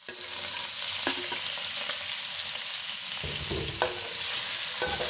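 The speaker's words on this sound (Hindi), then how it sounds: "आप चिकन को अच्छे से हम फ्राई कर लेते हैं।" Small chicken pieces fry in hot oil, a steady sizzle running throughout while a utensil stirs and scrapes them in the pan with a few sharp clicks, close and continuous.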